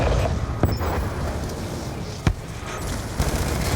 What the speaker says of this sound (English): Firing on enemy ASDs.